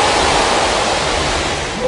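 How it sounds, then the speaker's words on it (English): Loud, dense machinery rushing noise from a watering cycle in the video game Dead Space, a steady wash of hiss and roar that holds evenly throughout without any pause. "That has to be the noisiest watering cycle I've ever heard."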